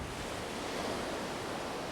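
Steady ocean surf washes continuously, a broad, even hiss of breaking waves at moderate distance with no pauses and no voices.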